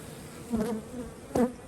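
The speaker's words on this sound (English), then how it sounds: "So good prolific bees these by the looks of it." Honey bees buzzing close by at an open hive in a steady hum, with two louder swells as bees pass near.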